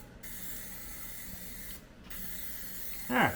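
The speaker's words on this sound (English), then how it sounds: "I'll just spray some" Two long bursts of aerosol undercoating spray hiss close up, each pausing briefly, followed by a short squeak at the end.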